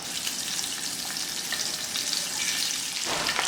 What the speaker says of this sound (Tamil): இப்போ முட்டையை சேர்த்து வறுத்தரலாம்